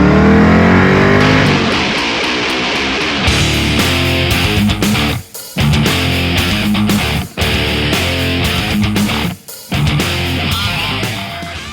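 A 1979 Mercury Capri Foxbody's engine revs loudly and close up, with repeated rises in pitch and abrupt cuts between revs, giving a raw, throaty burst-and-drop rhythm.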